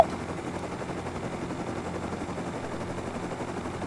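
Rapid gunfire in the video game Rust, sprayed toward a helicopter, a steady dense rattle of shots layered with droning rotor noise throughout.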